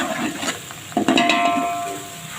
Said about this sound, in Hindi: और इसे 2 मिनट तक भूनेंगे।